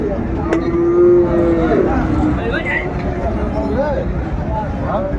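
A large Sahiwal breed bull moos loudly at a busy rural cattle market in Dinajpur, one long low call standing out over a steady babble of crowd voices and market noise.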